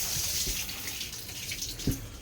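Water hisses steadily from a shower head in a campsite shower room, a constant close spray with faint splashes.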